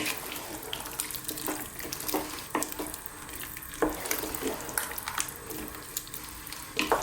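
Wet scraping and sloshing of a spoon stirring thick beef stew in a pot, irregular strokes with soft clinks, close and moderately quiet.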